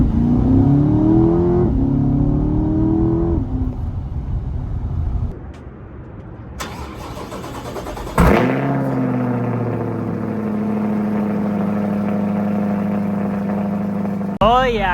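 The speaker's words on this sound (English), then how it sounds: "I just can't get enough of how good this car sounds." A 2020 C8 Corvette driving, its engine revving up and shifting through gears, loud and close from inside the cabin, then a sharp burst of acceleration into a steady higher drone, with some talk mixed in.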